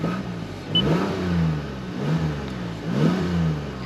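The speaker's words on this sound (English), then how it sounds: "we're gonna press our stop button, get things going, get this engine started" Three distinct revs from a 2020 Toyota Highlander's 3.5 L V6 rise and fall close by, each swelling in pitch and then settling back, with no talk.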